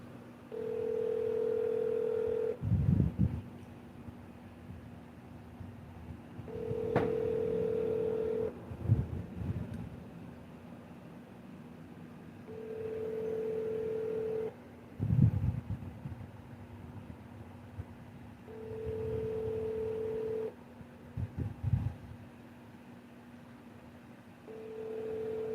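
Google Voice plays its call-connecting tone, a steady held ring tone that repeats about five times at even intervals with gaps between, under a low hum and faint background rumble.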